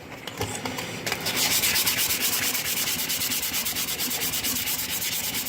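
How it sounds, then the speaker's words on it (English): Steady back-and-forth sanding with sandpaper, a continuous raspy rubbing in even strokes, close and loud, with no talking. "switch up your sandpaper there. Get this top portion."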